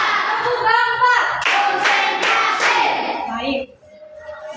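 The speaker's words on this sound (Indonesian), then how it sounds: "tepuk 1, tepuk 2, tepuk 3, tepuk 4" Students in a classroom clapping together in counted groups, several sharp bursts of claps mixed with children's voices, then a quieter pause.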